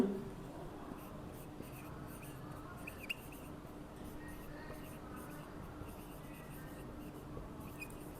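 Pen or chalk writing on a board during a Class 10 science lesson on electricity and potential difference, a soft continuous scratching that runs steadily alongside a teacher's talk.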